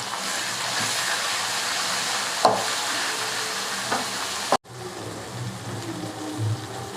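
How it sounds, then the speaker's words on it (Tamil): Tomatoes and onions sauté in a pan for egg gravy, giving a steady soft sizzle with occasional scrapes and clinks of a spoon stirring, fairly quiet. "அந்த தக்காளியை சேர்த்து தக்காளியை நல்லா வதக்கி விடலாம்."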